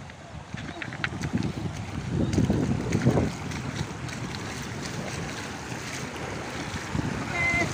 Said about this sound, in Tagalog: Lumakas na yung alon, ano? Lalong lumakas, oh.